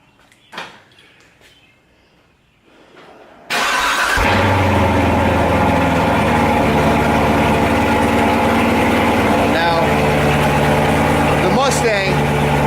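A car engine cold-starts in a garage with a sudden loud catch, then settles into a steady, rumbling idle that holds strong to the end, a faint voice audible in the quiet before the start.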